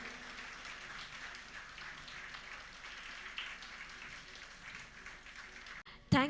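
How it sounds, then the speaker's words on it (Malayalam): Soft, distant applause from an audience at a speech competition award ceremony, a steady wash of many hands that continues evenly for several seconds before cutting off abruptly at the end. "നമുക്ക് എല്ലാവർക്കും ഒരുമിച്ച് ചേർന്ന് നല്ലൊരു കയ്യടി കൊടുക്കാം."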